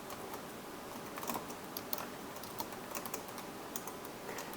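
Typing on a computer keyboard while working in R, a quick run of light key clicks at close range, steady and soft, without talking.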